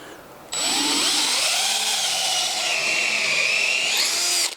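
A power drill spins a countersink bit into wood, a steady high whine starting abruptly after a brief pause and running loud and close for about four seconds before cutting off.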